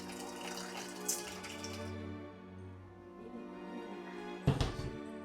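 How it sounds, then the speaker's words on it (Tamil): Water pours and trickles into a container in a quiet indoor setting, a soft running stream that fades midway before a brief louder splash and clunk near the end. "ஒரு ரெண்டு கிளாஸ் தண்ணி மட்டும் ஊற்றி"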